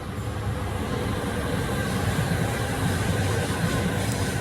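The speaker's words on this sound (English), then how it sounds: "that was a short train" A short train passes at a distance, giving a steady, broad rumbling roar that holds at an even level throughout, with no voices over it.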